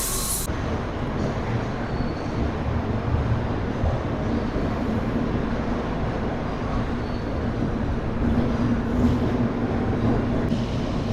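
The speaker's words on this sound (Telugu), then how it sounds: "మన ట్రైన్ వచ్చేసి కోయంబత్తూర్ జంక్షన్ నుంచి అయితే బయలుదేరిపోయింది." The Sabari SF Express pulls out of Coimbatore Junction, a steady, loud rumble and rattle of rolling carriages heard from on board, continuous without talk.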